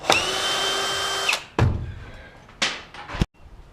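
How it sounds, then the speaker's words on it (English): A power drill whines steadily in short bursts while backing a screw out on a home framing job, with thumps and clunks between runs, close and alone. "I'm going to take this one screw out here"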